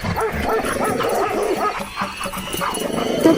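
A bulldog barks and yips in an animated Hindi story, several quick close barks over a busy cartoon soundtrack.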